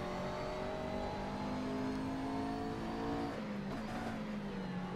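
McLaren MP4-12C in Assetto Corsa revving hard at Spa, a loud continuous engine drone holding high revs, then a shift drops the pitch slightly before it climbs again; no talking.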